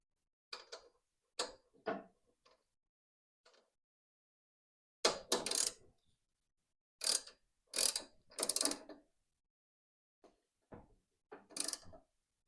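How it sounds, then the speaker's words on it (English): A ratchet snugs the nuts on a Tecumseh carburetor in sparse bursts of close clicking and clattering, separated by silences. "And then take your ratchet."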